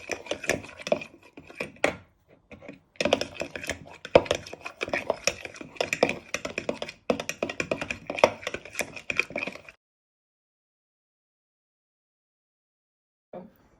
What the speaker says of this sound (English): now you want to give it a good stir